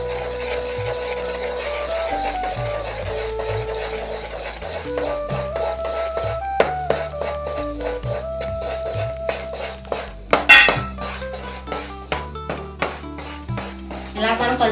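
Mysore pak gram flour being stirred into ghee sugar syrup in a pan, with steady scraping and utensil clinks against the metal, a few sharper knocks, and a voice talking over it.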